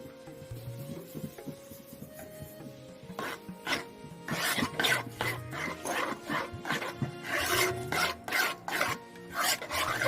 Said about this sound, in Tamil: அடி பிடிக்காத கிண்டிட்டே இருங்க.